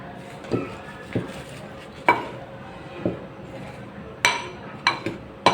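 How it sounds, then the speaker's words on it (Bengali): A sweet batter of flour and sugar being mixed in a bowl for a Bengali pitha, with sharp clinks of the utensil against the bowl at irregular intervals over a soft scraping stir, and a voice heard faintly. "এবারে সব মিশ্রণটা আমি ভালো করে মিশিয়ে নিচ্ছি"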